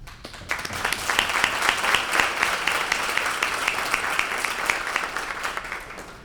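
An audience applauds at a school awards ceremony with dense, continuous clapping that swells quickly and holds steady throughout.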